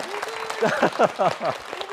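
A studio audience at a broadcast anniversary special claps for a young farmer from Goheung, a short burst of applause running under a voice that keeps talking.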